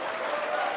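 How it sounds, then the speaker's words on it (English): Dense, steady applause from a live audience at a televised 2019 Canadian federal election debate, a continuous wash of clapping filling the short moment with no break. "I couldn't hear you because the audience was clapping"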